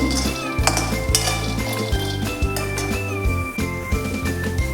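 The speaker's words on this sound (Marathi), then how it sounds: "आता आपण हे सांगे व्यवस्थित असे भाजून घेऊया" Dried lentil dumplings (sandge) being roasted and stirred in a metal kadhai: frequent clinks and scrapes of a spoon against the pan, close, under a steady layer of background music.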